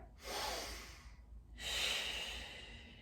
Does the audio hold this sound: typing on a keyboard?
no